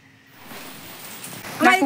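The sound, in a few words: heavy rain falling outside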